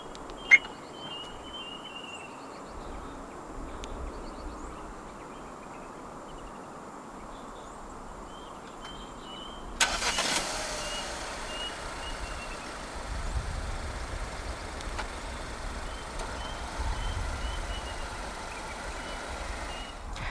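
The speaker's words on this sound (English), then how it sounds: "Standard for the J7 in Malaysia is a remote engine start system." A 2024 Jaecoo J7 1.6 turbo AWD starts by remote start: a quiet, still stretch with a faint beep, then a sudden burst as the engine catches, settling into a low, steady idle rumble heard from outside.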